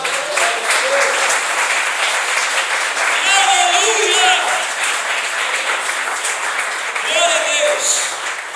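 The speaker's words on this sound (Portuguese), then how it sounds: "Dê uma salva de palmas para Deus" A church congregation gives a sustained round of applause for God, loud and even from start to finish, with singing or a voice rising above the clapping at moments.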